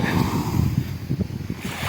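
Gentle sea waves washing onto a gently sloping sandy beach at Vattakottai, a soft, steady rushing wash with faint wind, brief and moderately quiet, no voices.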